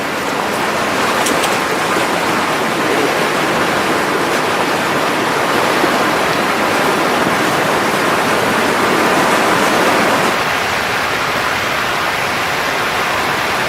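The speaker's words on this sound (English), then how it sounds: "This is the source of the Chudun River, the largest stream on top of Auyantepui." Water of the Chudun River rushing at its source high on the Auyantepui tabletop in the Guyana Highlands, a dense, loud, continuous roar of flowing water close by, with no voices.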